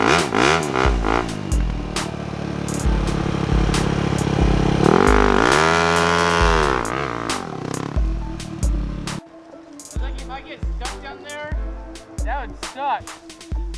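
A Honda trail motorcycle ridden on a motocross track at VP MX Park, its engine buzzing and rising and falling in pitch through repeated revs and gear changes, loud and close throughout, with wind noise and rattling mixed in.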